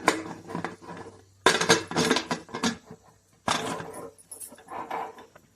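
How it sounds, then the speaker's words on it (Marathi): A pressure cooker lid is fitted onto a cooker holding jackfruit pieces in water with turmeric and salt, heard as several bursts of close metallic clanking and rattling separated by short quiet gaps. "आता आपण कुकरचं झाकण लावून देऊया"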